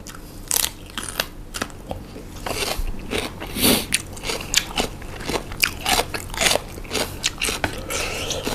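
Crunchy snack with shrimp roe bitten and chewed close to the mic, loud repeated crisp crunches in an irregular rhythm, with no talking.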